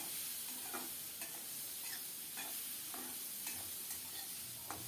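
Green chilies and snake gourd sizzle in oil in a pan, a steady low fry broken by regular scraping stirs that come roughly every half second to second.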